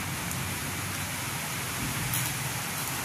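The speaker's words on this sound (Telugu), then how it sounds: "ఫుల్ అంటే ఫుల్ వర్షం పడుతుంది" Heavy rain pours down in a dense, constant roar with no breaks, loud and close all around.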